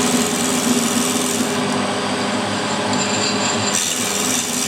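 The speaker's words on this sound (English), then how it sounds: "That's conventional milling" Milling machine taking a conventional milling cut: a loud, continuous grinding rasp with a steady motor hum beneath, the high hiss dropping briefly mid-cut before resuming.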